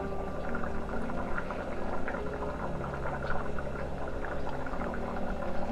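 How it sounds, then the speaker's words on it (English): A pot of potato stew with coconut bubbles at a steady rolling boil, with soft popping and gurgling throughout at close range. "our stew is boiling well"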